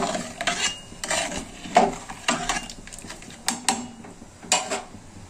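A utensil stirs rice, lentils, salt and turmeric in a pot, giving repeated scraping and metallic clinks in an irregular rhythm, close and moderately loud, with no talking.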